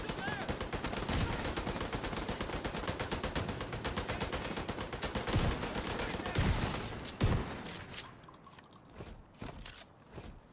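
Rapid automatic gunfire from the shooter game The Division 2, a dense stream of near, loud shots that thins into scattered bursts toward the end, with a voice talking over it.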